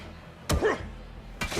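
A baseball bat strikes an enemy in a video game with two heavy, dull thwacks about a second apart, close and clear.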